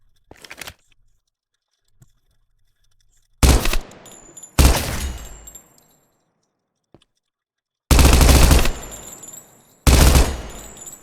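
Machine gun fire in a horror video game, heard as loud separated bursts: a short one at the start, two longer sustained bursts in the middle and two more near the end, with silence in between.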